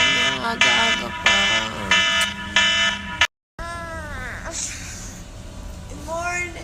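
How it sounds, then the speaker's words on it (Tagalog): A bedside alarm clock rings in repeated bursts of bright buzzing tones, about five pulses close by and loud, before a short cut to quieter room sound with faint warbling tones. "Alden, yung alarm mo. Patay mo muna"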